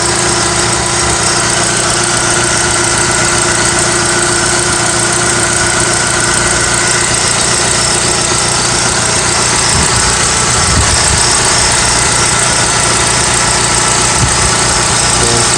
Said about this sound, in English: as you can see, this engine is running